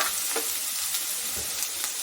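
Ginger crackles and sizzles steadily in hot oil, close by, with faint pops scattered through the hiss.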